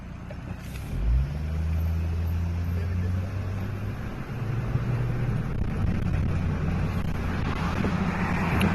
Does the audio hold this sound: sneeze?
no